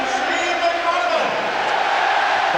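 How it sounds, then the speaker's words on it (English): Large football stadium crowd at the 1995 League Cup Final between Liverpool and Bolton Wanderers, a broad sustained roar of cheering from the terraces, steady and distant-sounding with no single voice standing out. "Crowd now acknowledging Steve McManaman as the man of the match."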